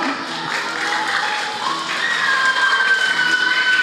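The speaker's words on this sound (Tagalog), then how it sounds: "Mga bata, pumalakpak po." Children clapping at an awards ceremony, a steady ripple of applause that grows slightly louder midway and carries on without a break.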